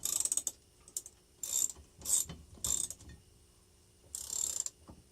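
Ratcheting wrench tightening the arbor nut on a ShopCraft radial arm saw, heard as several short bursts of clicking at close range separated by pauses, with no talking.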